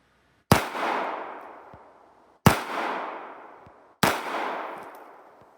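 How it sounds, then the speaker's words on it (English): Three sharp, loud shots from a 22 Winchester Magnum rimfire pistol firing hollow points at a bottle, each ringing out and decaying over about a second, spaced roughly two seconds apart. "Let's see what a 22 Winchester Magnum rimfire hollow point will do to a"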